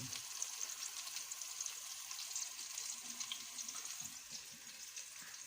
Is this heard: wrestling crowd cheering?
no